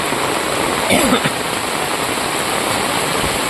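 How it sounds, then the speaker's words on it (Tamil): Heavy monsoon-type rain pours in Tirunelveli district, Tamil Nadu, in a dense, constant hiss that stays loud and even throughout, with a brief voice heard faintly near the start. "பார்த்தீங்களா நல்ல மழை வச்சு விளாசுது"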